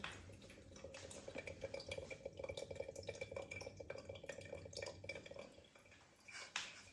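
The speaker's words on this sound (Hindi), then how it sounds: "बूंद बूंद करके निकलेगा, छेद छेद छोटा" Water dripping drop by drop from a small hole in a worn container, faint close-up patter of irregular tiny drips and trickles against a quiet room background, no voices.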